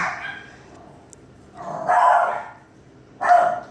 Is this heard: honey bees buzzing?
no